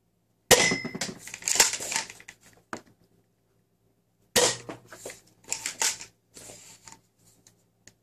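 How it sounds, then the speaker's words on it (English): A modded XYL KM9 toy gun fitted with a brass plunger tube and a 14 kg spring, firing: two sharp close snapping cracks, each followed by brief clattering handling and clicks, separated by a short silence. "Let's fire a few, see if there is any improvement."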